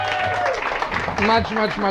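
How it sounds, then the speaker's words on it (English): A theater audience at a tribute show to Washington Heights breaks into steady applause for a performer, the clapping dense and close, with voices and cheering calling out over it throughout. "Do me a favor, clap for Eric. Give him a round of applause."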